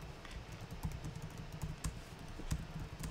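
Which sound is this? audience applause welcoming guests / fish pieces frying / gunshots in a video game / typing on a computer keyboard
typing on a computer keyboard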